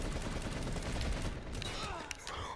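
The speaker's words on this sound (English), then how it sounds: "They've got those laser gun thingies" Rapid laser gun fire in a video game crackles as a dense, continuous burst that fills the clip, loud and close, with faint game chatter behind it.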